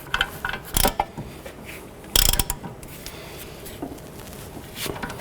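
A ratchet snugs down nuts on the knuckle bolts of a 2006-11 Honda Civic, with bursts of rapid, close clicking and pawl ratcheting separated by quieter pauses.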